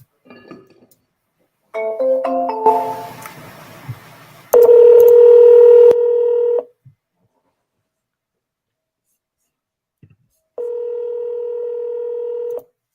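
Touch-tone dialing beeps, then a steady electronic ringback tone sounding twice with a silent gap between, fairly loud and clear with no talking.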